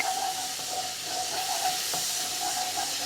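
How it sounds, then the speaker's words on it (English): Ground ginger and garlic browning quickly in a hot pan give a steady, close hiss of frying, broad and even throughout, with a faint tonal whine running underneath. "I'm just going to add some ground ginger, and as you can see, this is already browning up pretty quick"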